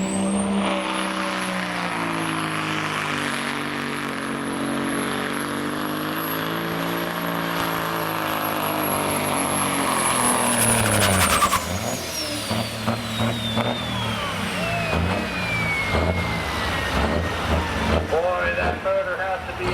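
A pulling truck or tractor at a tractor pull in Lebanon, engine roaring loud and sustained with a high turbo whine, then dropping off into rumbling and spooling down while a commentator talks over it.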